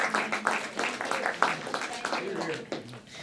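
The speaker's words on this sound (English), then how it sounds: "applause" Congregation applauding at a Sunday church service, a steady wash of many hands clapping at moderate distance, with scattered louder claps throughout and no one speaking.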